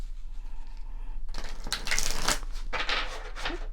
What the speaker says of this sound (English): I feel like I need to shuffle 2 more times.